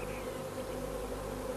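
Honeybees swarming out of a hive with the old queen, a dense, steady buzzing hum from many insects close by, continuous and unbroken.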